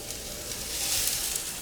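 Onions and garlic sauté in a pan for a vegetable risotto, producing a short burst of steady, bright sizzling that swells slightly toward the end.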